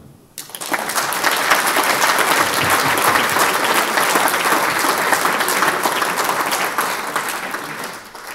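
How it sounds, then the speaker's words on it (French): Applause from a crowd at the official inauguration of the Lerchenberg, with speeches. It starts abruptly and holds as a loud, dense, sustained roar of clapping for several seconds before tapering slightly. "On peut l'applaudir."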